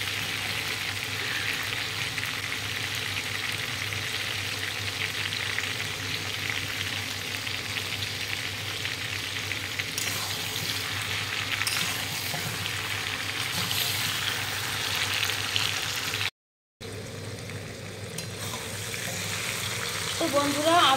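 Green mango pieces fry in hot oil for a chutney, giving a loud, continuous sizzle that runs steadily throughout, with a brief break near the end.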